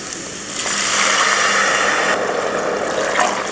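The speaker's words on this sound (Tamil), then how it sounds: "இப்போ இதுக்கு தண்ணி சேர்த்துடலாம்." Water poured into a pan of roasted rava for kitchadi, a steady loud splashing rush lasting several seconds.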